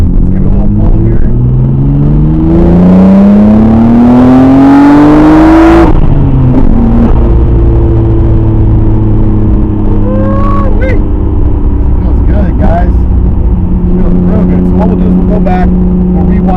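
A Nissan R32 GTR fitted with a new coil pack kit pulls hard under acceleration, its engine note rising loudly through the revs before a shift, then settling into a lower steady drone as it cruises on.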